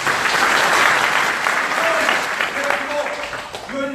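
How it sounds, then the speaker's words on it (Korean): Audience at a Korean union officer candidate election rally in Incheon applauds steadily and loudly for the candidates, a dense sustained clapping with a few brief voices near the end. "힘찬 박수 부탁드립니다."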